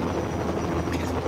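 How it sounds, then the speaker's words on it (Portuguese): Steady, loud rotor and turbine roar of a Dauphin-type helicopter, close by and continuous throughout, with faint voices mixed underneath. "Que helicóptero é esse?"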